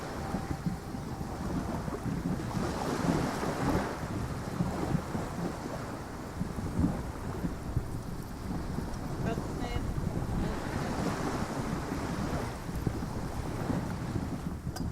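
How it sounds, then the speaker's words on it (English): Ocean waves ambience from the video game Disco Elysium, a steady broadband wash of surf and wind-like rush that stays loud throughout, with a person briefly speaking over it. "Ocean waves so loud."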